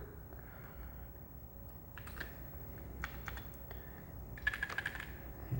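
Function keys on a Commodore SX-64 computer keyboard being pressed after a membrane replacement, a run of quick, light plastic clicks and taps over a steady background hiss, fairly close and with no one speaking.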